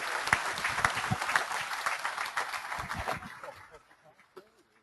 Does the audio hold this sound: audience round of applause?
yes